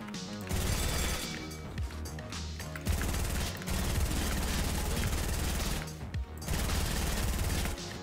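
Rapid gunfire from a Fortnite match, with bursts of shots fired at practice targets on the map, loud and continuous over dense game music and effects, with short gaps between volleys.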